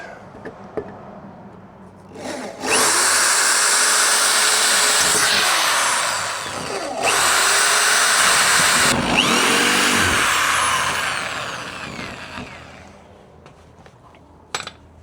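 A power drill bores out rivets on a Land Rover Defender window frame in two loud sustained whining bursts separated by a short pause, with quieter clatter and tapping before and after.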